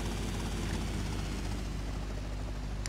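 A helicopter in GTA Vice City: The Definitive Edition drones on continuously with a low, even rotor and engine hum, steady and fairly quiet throughout, with no talk over it.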